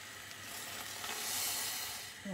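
Filtered water poured into a pan of simmering tomato sauce with lupin seeds gives a steady sizzle and hiss that swells briefly and then eases, close by with no talking.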